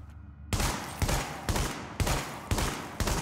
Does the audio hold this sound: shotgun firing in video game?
yes